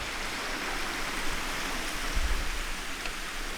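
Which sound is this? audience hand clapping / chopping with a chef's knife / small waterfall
small waterfall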